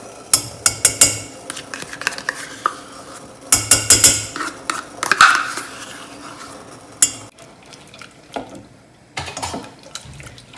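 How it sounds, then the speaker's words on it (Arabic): A spoon stirs a milk and yogurt frosting mixture in a bowl, making bursts of loud clattering scrapes and knocks against the sides, separated by quieter pauses. "غنستمروا بالتحريك حتى تولي لنا على شكل كريمه"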